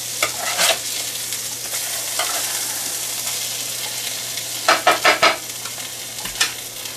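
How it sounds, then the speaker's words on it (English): Catfish fillets fry in a pan with a steady, close sizzle throughout, broken by several sharp clatters of a utensil flipping the pieces, a clustered burst of them near the end. "Nothing like fried fish fillets."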